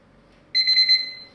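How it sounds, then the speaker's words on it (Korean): A kitchen timer goes off after four minutes of cooking instant black-bean noodles, a sudden loud, steady electronic beeping tone starting partway in and ringing close by in a quiet kitchen. "사분이다 되었으니 타이머는 끄고"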